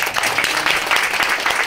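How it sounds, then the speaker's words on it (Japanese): Dense, close applause from an audience welcoming an introduced guest at a Japanese event, a continuous, loud rattle of many hands clapping. "皆さん拍手で、"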